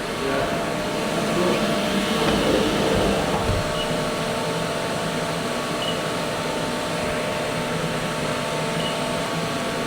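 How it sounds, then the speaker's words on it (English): A HEPA-filtered vacuum runs in a knife-making shop, giving a steady, loud whirring drone with a constant whine that holds without break through the whole stretch, with no talk over it. "So, this has got really good vacuum."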